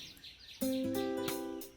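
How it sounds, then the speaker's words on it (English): Birdsong from the background ambience of the game 14 Days With You: faint chirps at first, then a clear, tonal warbling call with sustained pitched notes, moderately loud and alone. "This bird in the background is gonna make me lose my mind."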